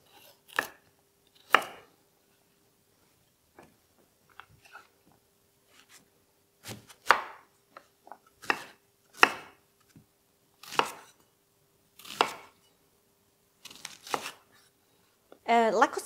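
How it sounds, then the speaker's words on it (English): A knife chops vegetables into large dice on a board for a German roast pork knuckle dish, giving irregular bursts of sharp, close cuts separated by short pauses, with occasional faint talk nearby. "So we're really just gonna chop everything into big dices."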